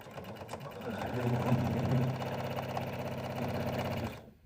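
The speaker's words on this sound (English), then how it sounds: "fold our fabric right sides together and go ahead and sew" A sewing machine stitches folded fabric pieces together for a carry-all bag, its needle running in a fast, even mechanical chatter before stopping abruptly at the end, with a voice speaking over it.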